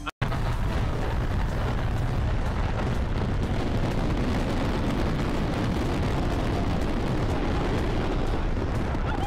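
A large firework explosion plays back as a loud, sustained roaring blast that fills the whole stretch, dense and rumbling with no pauses and no voices.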